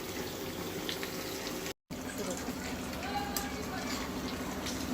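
Chicken pakora frying in very hot oil, a steady sizzling hiss filling the background with faint kitchen clatter and a brief cut partway through.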